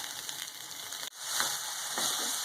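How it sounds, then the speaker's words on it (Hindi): Potatoes shallow-frying in about two tablespoons of oil, a close, steady sizzle with a brief clatter and dip partway through before the crackling swells again. "आलू भी मैं फ्राई हो रहे हैं"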